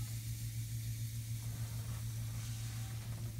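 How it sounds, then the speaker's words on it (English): A bath bomb fizzes in bath water, a faint continuous hiss over a steady low hum from the tub or room, with no talking. "The sound of that fizzing."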